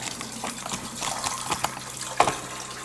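Water is poured into the tank on top of a wood stove, a continuous gushing trickle with irregular splashes and a few sharper knocks, close and steady throughout.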